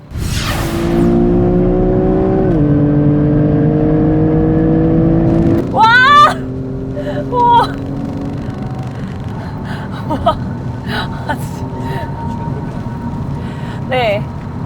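A Kia Stinger GT with the 3.3 turbo engine launching hard, a loud steady engine drone climbing through gear changes with rising whine, then settling as someone speaks over the cabin noise.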